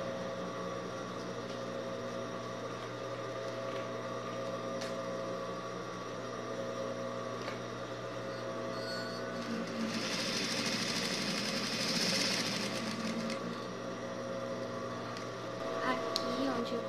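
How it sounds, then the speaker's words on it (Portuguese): A sewing machine stitches around an inset pocket, running as a steady continuous whir throughout, slightly louder toward the middle, with no talk over it. "agora eu vou costurar ele todo aqui por baixo, pegando essa parte da costura e costura em volta toda"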